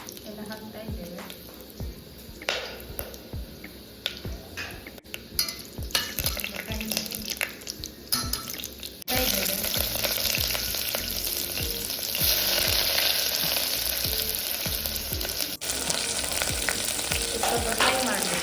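Whole spices such as cinnamon, cloves, cardamom, fennel and bay leaf with biryani masala frying in a pan for veg pulao, a constant sizzle broken by frequent spatula scrapes, growing louder and hissier in the second half.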